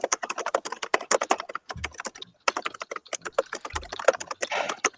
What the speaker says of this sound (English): Yeah, I was typing there.